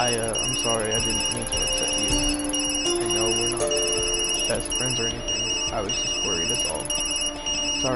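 A phone rings in the Tokyo Dark video game with a steady, repeating electronic bell-like trill that runs throughout, close and loud beneath ongoing dialogue and background music.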